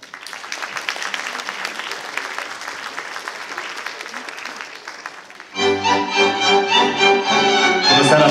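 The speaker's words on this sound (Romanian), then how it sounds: "așadar, vă invit să îl primiți cu aplauze pe Mihai Claudiu Ilieș" A crowd at a school gala show claps steadily and loudly, then music swells in over the continuing applause.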